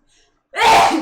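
A single loud, close sneeze bursts out after a near-silent half second, sharp and breathy, within a tabletop roleplaying game session.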